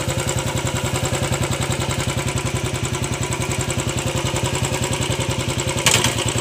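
A Royal Enfield Classic 500cc motorcycle engine idles in neutral with a steady, even thump and mechanical clatter, close and loud throughout with no talking.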